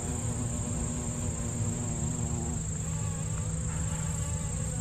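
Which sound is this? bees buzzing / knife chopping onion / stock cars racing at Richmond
bees buzzing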